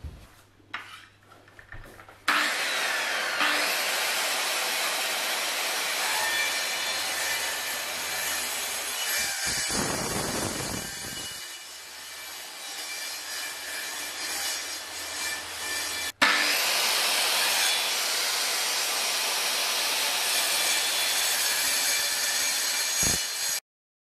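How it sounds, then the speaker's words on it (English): A hand saw cuts through a wooden floorboard beside a floor joist in rapid, steady rasping strokes, loud and close, pausing briefly partway before resuming, with no talking. "I'm going to cut on this side of the floor joist"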